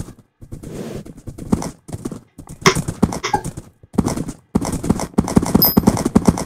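Horse hooves in the video game Minecraft clip-clop in quick uneven bursts, close and fairly loud, broken by short silences, with a brief whinny partway through.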